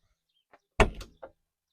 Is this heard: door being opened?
yes